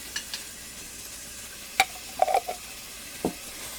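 Minced garlic stirred into onions cooking in a pan, faint sizzling under a few distinct scraping and clinking strokes of a utensil, sparse and close.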